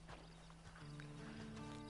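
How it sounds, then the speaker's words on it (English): A horse in the video game Red Dead Redemption 2 clip-clops with steady hoofbeats and gives a short whinny, with a low game soundscape underneath. "Then you better get on this horse."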